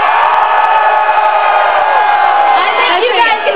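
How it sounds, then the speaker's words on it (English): A large indoor crowd at a Diablo 3 launch event screams and cheers continuously, loud and sustained, with overlapping shouts and whoops filling the space. "I need to hear you guys scream."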